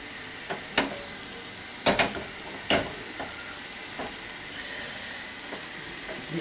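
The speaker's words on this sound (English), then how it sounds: "It's starting to bubble a bit now. So that means it's cooking the flour" A flour roux for a fish pie sauce sizzles and bubbles steadily in a pan, with a continuous hiss broken by a few sharp pops and spoon clicks, close and alone.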